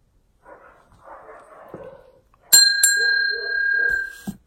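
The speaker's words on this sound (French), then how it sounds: "J'aime bien ma petite cloche tibétaine, j'aime bien avoir à côté de moi lorsque je filme." A small Tibetan bell is struck once or twice indoors and gives a clear, pure ringing tone that sustains for nearly two seconds while someone talks quietly before and over it.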